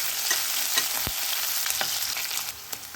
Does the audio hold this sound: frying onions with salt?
yes